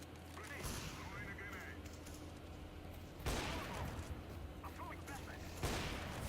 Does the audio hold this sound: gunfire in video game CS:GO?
yes